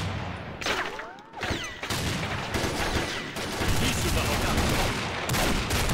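Rapid bursts of gunfire and fusillades from the online shooter Combat Arms, in an Arms Race match, loud and continuous across the clip with overlapping shots and game effects.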